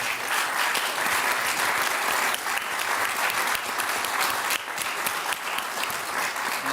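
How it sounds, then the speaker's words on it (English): An audience at a cyber-security panel session applauds the panelists with steady, dense clapping that holds throughout, full and close with no voices on top. "So I'd like to invite you to give our panelists an applause there."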